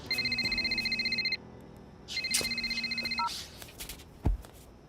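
A mobile phone ringtone rings in fast rapid-pulsed electronic bursts, two ringing stretches with a short gap between, then a beep and a thud as it stops, moderately loud indoors with no talk.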